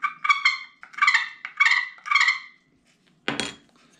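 A carbon fiber turkey call is played, giving five sharp yelping clucks in a quick rhythmic series, then a brief clack or handling noise after a pause, close and clear with no voices.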